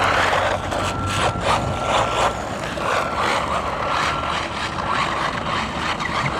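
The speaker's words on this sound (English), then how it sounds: "we had it doing some circles there. Some donuts." A budget RC car drives in circles and spins donuts, its motor whirring steadily and loudly close by over broadband wheel and surface noise, without pause.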